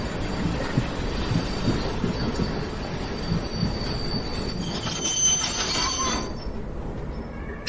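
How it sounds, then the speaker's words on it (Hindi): A train brakes to a stop in thick fog, its wheels squealing loudly on the rails over a steady rumble. A shrill metallic screech swells near the end and then fades as the train slows. "तुम्हें यहीं पर ट्रेन रोकनी पड़ेगी।"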